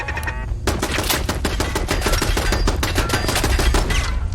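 Rapid, loud gunfire from a pump-action shotgun in the video game Fallout 4, a dense run of sharp blasts filling the whole stretch with little pause between shots.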